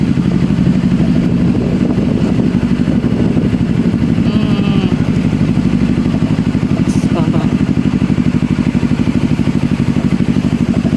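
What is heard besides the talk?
large motorcycle riding downhill with a passenger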